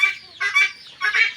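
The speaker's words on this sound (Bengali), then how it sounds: "আমার কিছু মুরগি আছে, দেশি মুরগি আছে, ডিম দিচ্ছে" Chickens on a poultry farm, including laying hens of a local breed, give loud close squawking calls in three bursts, harsh and nasal, with no talk.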